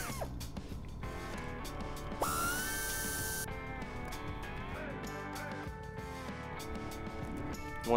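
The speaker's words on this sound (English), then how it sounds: "you can get your 8mm and remove the 2 hold down bolts to hold the injector" An 8mm ratchet loosens the injector hold-down bolts on a 5.9L common rail diesel engine, with rapid close-up clicking bursts of the pawl and a short metallic whirr in between.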